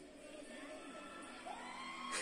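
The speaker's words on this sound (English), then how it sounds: "You can hear the crowd. They're screaming. They're shouting." Concert crowd at a live show, a faint distant wash of cheering, whoops and shouting that swells slightly toward the end, with no clear talk over it.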